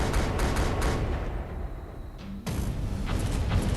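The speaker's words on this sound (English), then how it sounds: "Fire main batteries." Warship main batteries fire in the space strategy game Battlefleet Gothic Leviathan, a rapid salvo of heavy booming shots that cuts out briefly, then resumes with another loud, rolling barrage.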